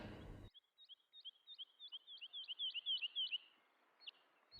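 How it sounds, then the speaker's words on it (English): Recorded bird songs play through speakers in an art exhibition: a run of about a dozen quick, high chirps in steady rhythm, then a pause and two more chirps, clear against a quiet room. "as you walk around the exhibition, you hear some bird noises"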